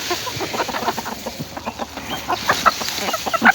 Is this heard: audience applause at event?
no